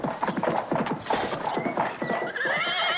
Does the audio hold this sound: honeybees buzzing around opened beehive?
no